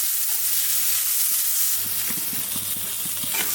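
Onion, green chili and garlic fry together in oil with a loud, steady hiss, joined partway through by a quick rhythmic tapping as the mixture is stirred.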